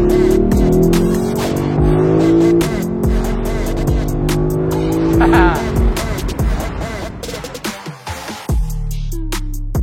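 A Lexus LC two-door coupe engine revs hard and loud nearby, rising and falling through several sustained throttle blips before dropping to a steady idle near the end.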